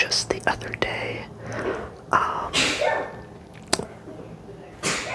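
One sneeze bursts out up close among soft whispery breaths and light handling noises, and a few quiet voice sounds come before and after it.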